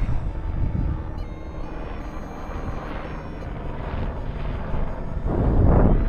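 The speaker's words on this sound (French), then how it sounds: "Ah, un petit hélico qui passe là." A small helicopter passes overhead above open farmland, a steady broad engine rumble that holds throughout and swells louder toward the end, with no talking.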